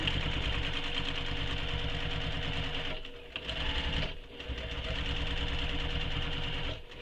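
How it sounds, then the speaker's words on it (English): Sewing machine backstitching a seam on a handmade tote bag, running as a steady loud mechanical whir that dips briefly twice as the stitching reverses, then resumes at full speed. "I'm going to backstitch over this area."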